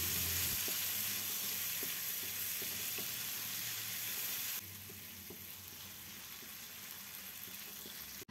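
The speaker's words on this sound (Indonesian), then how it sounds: "Setelah panas, kita masukkan bumbu halusnya. Kita tumis sampai harum." Ground spice paste sautéing in hot oil for a vegetable curry, a steady gentle sizzle with faint occasional ticks of stirring, close and quiet, no voices.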